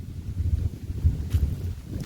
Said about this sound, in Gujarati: અત્યારે પવન પણ એટલો જ છે